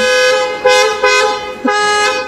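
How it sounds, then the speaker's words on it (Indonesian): A car horn honks repeatedly, several loud toots in an uneven rhythm, close and clear with no talking. "Mobil mewah gini emang harus memainkan klakson."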